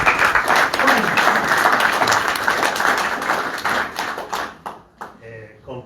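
Audience applause at a Peronist youth book presentation, a dense crowd clapping steadily for about five seconds before thinning out, with voices and cheers mixed in near the end.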